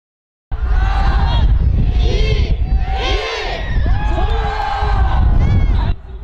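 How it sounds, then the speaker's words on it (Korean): A large crowd roars and shouts in powerful unison at a New Year's celebration, loud, close cheering that swells and holds for several seconds before dropping off abruptly. "힘찬 함성과 함께 새로운 한 해가 시작됩니다."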